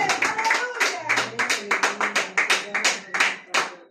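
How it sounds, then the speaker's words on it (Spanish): A church congregation claps together in a steady rhythmic beat, close and lively, with a voice calling out over the clapping. "Denle un aplauso fuerte, mi Abba."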